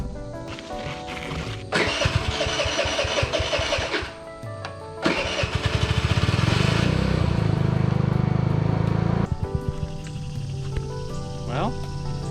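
A 2019 Coleman 49cc scooter engine cranks and sputters to life, then runs with a loud, close, buzzy small-engine drone that rises and falls with the throttle before settling toward idle.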